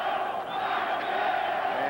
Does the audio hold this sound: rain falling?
no